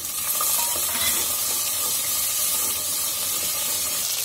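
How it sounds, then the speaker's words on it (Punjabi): Cumin and green peas fry in hot oil in a pan, giving a close, steady hiss and sizzle that holds for a few seconds with no voices. "ਜੀਰੇ ਨੂੰ ਭੁੰਨ ਲਾਂਗੇ ਤੇ ਨਾਲ ਹੀ ਜਿਹੜੇ ਹਰੇ ਮਟਰ ਆ ਪਾਓ ਪਾ ਦੇਣੇ ਆ।"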